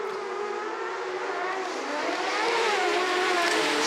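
F600 autograss race cars on a dirt oval in the British Autograss Series scream continuously at high revs, a loud, sustained whining engine roar that swells as the field draws nearer, heard alone without talk.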